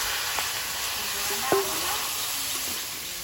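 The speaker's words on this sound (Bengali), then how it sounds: "কড়াইতে তেল দিয়ে দেবো কালো জিরে আদাটা দিয়ে দিলাম কালো জিরে আর আদা এর পুঁই শাক কুমড়ো আর আলুটা দিয়ে দেবো" Pumpkin, potato and Malabar spinach greens fry in oil with black cumin and ginger in a kadai, giving a steady, close sizzle with one sharp clink of a utensil midway.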